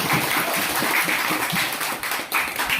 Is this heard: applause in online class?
yes